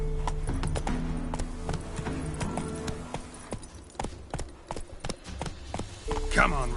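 Roach the horse galloping in The Witcher 3, with brisk, rhythmic hoofbeats and a brief whinny near the end, while a voice talks over the clattering.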